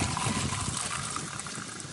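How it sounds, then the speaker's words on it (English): Drinking water pours steadily out of a rainwater collection system after passing through a 10 micron filter, a continuous close rushing splash with air in the line, with no talk over it. "So we have our drinking water coming out."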